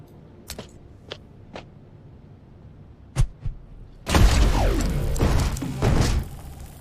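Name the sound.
EMP grenade thrown in the video game Mutant Year Zero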